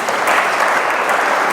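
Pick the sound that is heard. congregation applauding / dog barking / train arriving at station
congregation applauding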